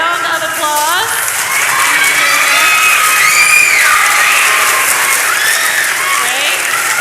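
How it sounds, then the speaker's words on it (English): A church crowd at a Vacation Bible School closing ceremony claps loudly and continuously for volunteers, with cheers, whoops and children's shouts mixed into the steady applause. "give you a nice round of applause"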